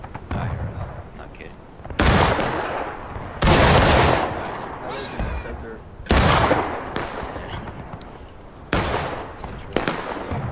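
Musket volleys in the Civil War game War of Rights crack out in several loud, broadband bursts a couple of seconds apart, each trailing into rolling echo, with scattered shots between them.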